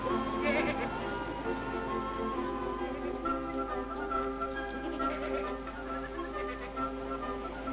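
Goats bleat in drawn-out, wavering cries over a steady hum, several calls overlapping at moderate distance.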